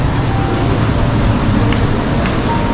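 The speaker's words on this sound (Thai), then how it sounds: "ฝนตกแบบ รุนแรงมากนะเดี๋ยวเอาไปให้ดู" Heavy rain on a Singapore street pours down as a dense, loud, unbroken hiss with a deep rumble beneath it.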